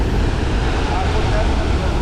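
Water at Athirappilly waterfall in Kerala pours from about 83 feet, a loud, constant broadband rush with no breaks, like heavy spray and wind close by.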